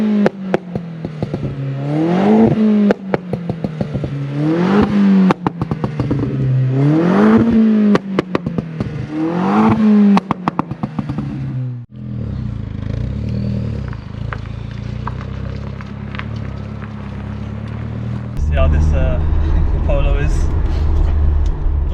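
A stage 3 tuned Volkswagen Polo GTI of about 300 bhp pulls hard through repeated rising engine sweeps with gear changes between them. The sweeps give way to a lower cabin rumble, with voices talking over the engine.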